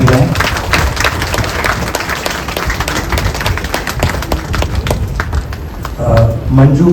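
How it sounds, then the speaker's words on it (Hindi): An audience at a welcoming ceremony breaks into loud, dense applause, a steady wash of many hands clapping close by with voices mixed in. "जोरदार तालियां आती रहें।"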